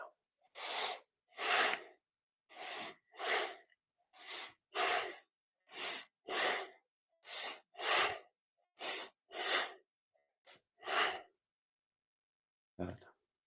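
Qigong breathing practice: a long series of strong, airy exhalations and inhalations at a steady unhurried rhythm, close and clear, with silent gaps between breaths and no talking.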